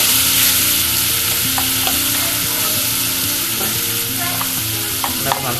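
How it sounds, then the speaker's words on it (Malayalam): Crushed onion and garlic sauté with turmeric and cardamom in a pan for a spicy salmon fish head curry, giving a steady, close sizzle with occasional stirring scrapes throughout and no talking. "നന്നായിട്ട് സോട്ട് ചെയ്തെടുക്കുക, ഒരു ബ്രൗണിഷ് കളർ ആവുന്നവരെ"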